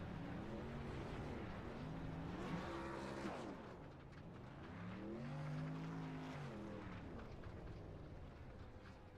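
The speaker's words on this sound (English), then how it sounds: "Well-deserved burnouts." Monster trucks doing burnouts at a dirt-track event roar with a sustained engine drone that climbs and falls in pitch as the throttle surges twice, heard from a distance with a broad rumbling wash and no voices.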